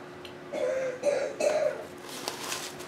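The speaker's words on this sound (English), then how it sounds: "We had a bit of a cough going around the house, unfortunately." Three quick, muffled coughs come in a row, followed by a faint throat-clearing sound, indoors in a home and fairly quiet.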